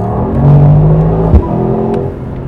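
A Mercedes-AMG GT 63 engine revs up nearby, with a rising drone that holds and falls back and a single sharp exhaust pop partway through.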